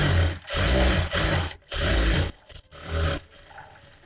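A sewing machine runs press stitching on blouse fabric in loud, close bursts of whirring motor and needle rattle, each lasting about half a second to a second, separated by short pauses, ending with quieter handling.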